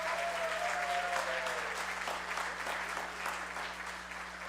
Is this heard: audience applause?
yes